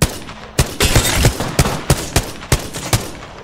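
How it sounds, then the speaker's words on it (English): Gunfire in Apex Legends cracks out as about ten sharp, loud shots close by, some paired and some spaced apart, irregular and punchy with no talk over them. "I'm taking fire"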